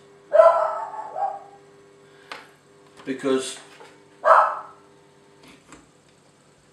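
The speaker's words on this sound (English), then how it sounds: "Hey dog, shut up!" A dog barks several times nearby while someone works outdoors joining a pond liner, the barks coming in short separate bursts with quiet gaps between them.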